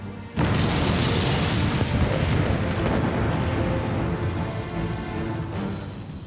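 A deep, sustained roaring blast erupts suddenly and rumbles on for several seconds, evoking barrels of gunpowder going up in an ammunition store during the Great Fire of London, with no voices.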